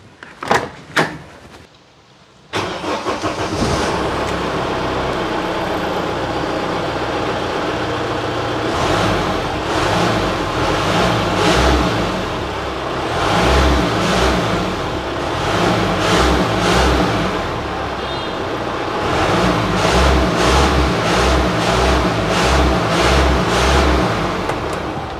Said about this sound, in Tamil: இப்போ வந்து என்ஜினை ஸ்டார்ட் பண்ணுறேன்.